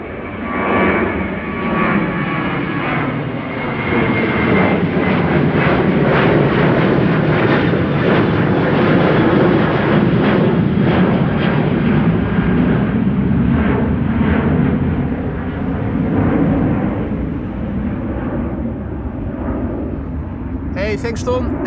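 An airliner departs Amsterdam Schiphol Airport with a loud, roaring jet engine thrust that builds, holds strong for most of the span, then slowly eases as it moves away, with talk faintly underneath.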